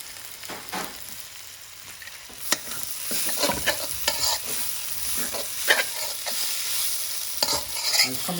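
Red hot chicken chilli stir fry sizzling in a pan, British Indian restaurant style, with steady frying hiss and repeated scraping clatters of stirring that grow busier and louder toward the end.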